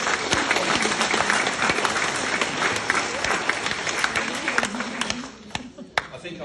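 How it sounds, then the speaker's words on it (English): Sustained applause and clapping from an audience at a common law meeting, loud and dense for about five seconds before thinning to a few scattered claps. "You can keep clapping if you like."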